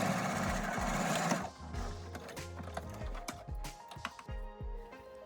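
A sewing machine stitches a quarter-inch seam on a lining piece, running in short rhythmic bursts with brief pauses and fabric handling between, fairly quiet and close.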